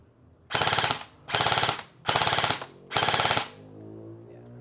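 Four rapid full-auto bursts from an airsoft rifle with Noveske markings, each about half a second long with brief gaps between them. The bursts are loud and close, followed by a faint mechanical hum.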